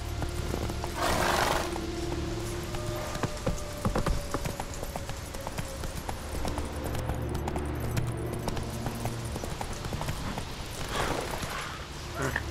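Horse hooves clip-clop in a steady galloping rhythm in The Witcher 3: Wild Hunt, close and continuous throughout, with a brief snort or whinny and rustling gear layered over the hoofbeats.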